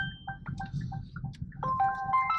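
A mobile phone ringtone sounds inside a car in Canada, a run of bright melodic beeping tones that grows clearer and more insistent toward the end over a low rumble of road and engine noise.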